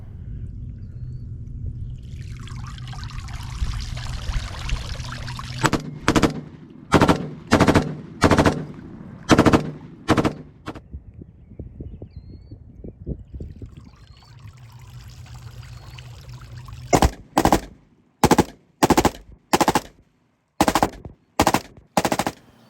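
An HK G36 rifle fires after being pulled from water: first a long watery trickle and splashing, then two volleys of loud, sharp shots in quick bursts with short gaps, the water sound returning briefly between them.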